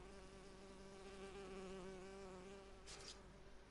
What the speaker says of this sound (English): Where's that fly buzzing around?